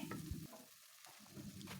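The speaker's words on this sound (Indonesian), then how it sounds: "Kita aduk-aduk." Fried noodles with sweet soy sauce being stirred in a pan, a close scraping and sizzling clatter of utensil against metal in steady strokes, with a brief pause midway.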